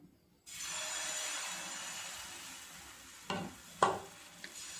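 Ladled batter for patishapta hitting a ghee-greased pan, a steady close sizzle that holds throughout, with a couple of brief ladle knocks near the end.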